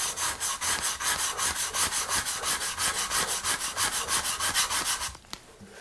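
Steady back-and-forth rasping of a plane iron honed freehand on a sharpening stone, about five strokes per second, close and even for five seconds before stopping abruptly.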